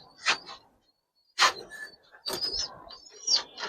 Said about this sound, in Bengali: এটা নর কবুতর একটা।